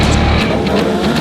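Supersport race car engines roar loudly at high revs at a video game race start at Road America, a dense wall of motor noise with rising pitch, close and continuous.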